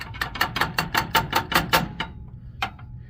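A part of a Brunswick GSX bowling pinsetter is tapped into place with a crescent wrench, giving about ten quick, sharp metallic knocks in a steady rhythm, then a pause and one last strike, close and loud.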